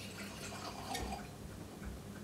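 Kvint 10-year Moldovan cognac from a cork-stoppered bottle pours into a glass, a quiet liquid trickle and splash lasting a couple of seconds over a faint room background, with no talking.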